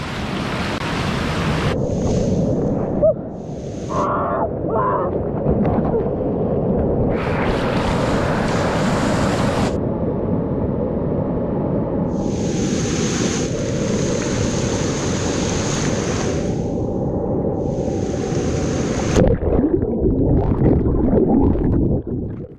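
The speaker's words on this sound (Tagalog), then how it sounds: "Yan, rumagagasa dito sa ilog." Muddy, chocolate-colored river water rushes down from Mt. Halcon, a loud continuous roar close by, with wind buffeting the microphone in bursts.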